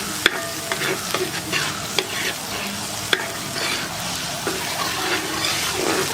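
Ginger and garlic paste frying in a pan over a wood-fired stove while a village-style squid roast is made, a steady close sizzle broken by scraping stirring strokes and a few sharp clicks.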